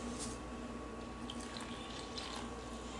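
Water runs steadily from a tap into a kitchen container while jalebi batter is being mixed, a continuous faint splashing trickle with no voices.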